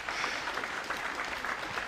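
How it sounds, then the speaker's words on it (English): Soft, distant applause from a snooker crowd, a brief steady patter of clapping. "Yes, applause from the crowd"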